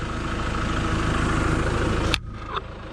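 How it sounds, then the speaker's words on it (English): A tractor engine runs steadily at a low, droning idle while ground is prepared for fall garden rows, loud and close, then cuts off abruptly near the end, leaving quiet with a faint clunk. "I'm keeping my tractor tires in the groove"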